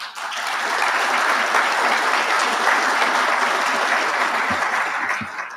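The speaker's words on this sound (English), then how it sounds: "a round of applause for our color guard and our band, please" A banquet audience at a Marine Corps awards dinner applauds the color guard and band, a loud, sustained wash of clapping that swells quickly and holds steady before tapering slightly at the end.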